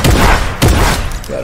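Loud video game gunfire cracks out in two quick bursts, about half a second apart, as an enemy is shot down, each blast ringing with a boomy tail.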